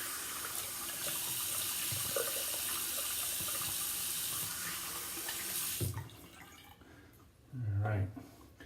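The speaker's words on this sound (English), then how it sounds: "I just rinse my face off and then I'll give my thoughts on this" Running tap water splashing into a sink while a face is rinsed after a shave, a steady close wash for most of the clip that then stops, followed by a few faint drips and a brief low thump.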